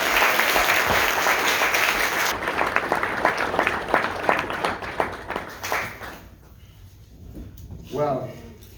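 Audience applause for a Women's Boxing Hall of Fame inductee at a 2019 induction ceremony, steady dense clapping from a crowd that thins and fades after about six seconds, followed by a voice beginning to speak.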